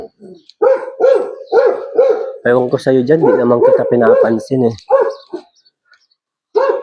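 A big dog barks several times in quick succession close by on a street in Rijeka, Croatia, followed by a person talking over and between further deep barks.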